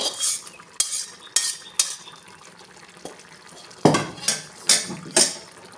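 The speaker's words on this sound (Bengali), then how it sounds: "কষিয়ে রাখা মশলা দিয়ে ভালো করে মিশিয়ে নেব।" A spoon or ladle stirs a fried paste of ginger, cumin and red chili powder into khichuri in a cooking pot. It scrapes and clatters close by in repeated bursts, with gentle sizzling between strokes.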